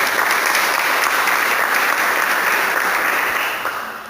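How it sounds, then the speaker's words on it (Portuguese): Church congregation applauding during a service, steady dense clapping throughout that thins slightly near the end. "Eu convido você a aplaudir esta palavra"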